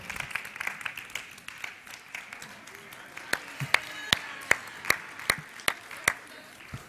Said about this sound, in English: Can we give a nice round of applause for Santa?